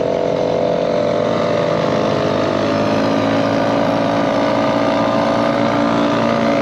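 A 3.3 HP outboard motor drives a small boat off Temajuk village in Kalimantan, holding a loud, steady, close engine drone with no breaks.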